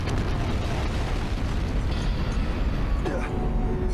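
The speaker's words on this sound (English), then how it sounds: "It blew the hell up." An explosion in the video game Danganronpa: Trigger Happy Havoc produces a loud, dense, sustained roaring blast that fills the whole clip, with a brief sharper accent near the end.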